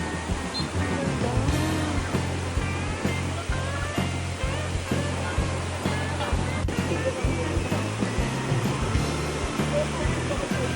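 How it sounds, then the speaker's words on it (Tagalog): Waves wash and roar continuously on a beach in Boracay with strong wind noise, while people talk nearby over the surf. "Maalon, mahangin yung panahon."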